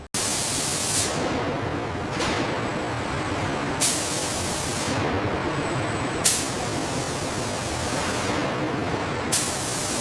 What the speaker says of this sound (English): An automated gantry sprays a flawless layer of white gel coat.